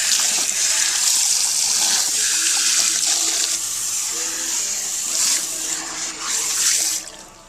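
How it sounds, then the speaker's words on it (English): At a hair salon, water sprays lightly onto hair in a continuous hiss that runs for several seconds with slight surges, then trails off sharply at the end. "you go ahead and hit it lightly with water, and you'll see my lovely assistant doing that"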